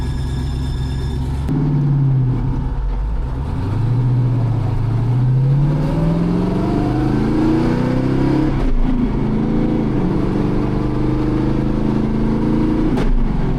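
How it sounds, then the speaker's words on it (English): A running S-10 pickup engine idles and revs, its pitch rising and falling in smooth sweeps, with a whirring, whining belt tone riding on the loud steady drone. "It's just the alternator belt."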